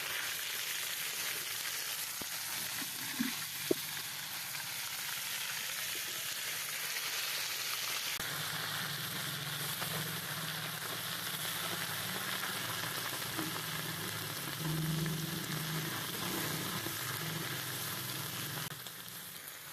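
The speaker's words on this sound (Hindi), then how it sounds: "बहुत ही एहतियात के साथ घी में ऐड करेंगे साग को हम।" Mustard greens (saag) frying in desi ghee, a steady close sizzle and crackle running without pause, with a brief clatter of stirring partway through and no one talking.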